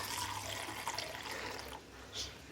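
Water is poured in a steady splashing stream into a pot of chicken corn soup in a home kitchen, then trails off.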